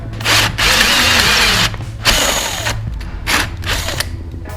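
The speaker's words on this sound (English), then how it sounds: "now I'm going to move on to cutting it with the 52mm hole cutter bit" A power drill fitted with a 52mm hole cutter bit bores into a panel for a BBQ sound system install, loud and close, in bursts of grinding whine with short pauses and a ratcheting bite between them.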